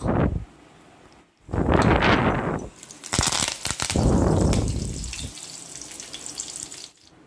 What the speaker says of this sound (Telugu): కడాయి పెట్టుకొని తగినంత ఆయిల్ వేసుకున్నానండి ఇప్పుడు తాలింపుకి ఆవాలు జీలకర్ర మినపప్పు కరివేపాకు తాలింపు సామాన్లు ఉంటాయి కదండి అవి వేసుకున్నాను